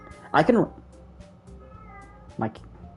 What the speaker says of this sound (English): One of my cats is fucking meowing.